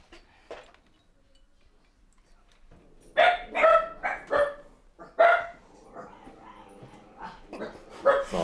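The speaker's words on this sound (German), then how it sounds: "So, da hinten sind unsere Hunde." Dogs kept behind a house bark in an alert, a quiet pause giving way to a burst of loud, overlapping barks and yips in uneven clusters at moderate distance, with no talk over them.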